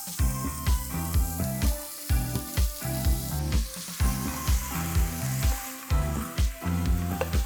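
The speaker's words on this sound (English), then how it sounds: "At this stage, when the color of the onion has gone golden brown," Mutton hits golden-brown fried onions in a hot pan and sizzles hard, a steady loud hiss broken by rhythmic stirring scrapes roughly every half second, close up with no voices.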